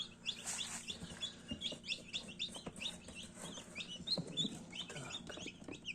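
Faint, high-pitched peeping of many newly hatched Livensky chicks, rapid overlapping chirps heard over a quiet background hum near an incubator.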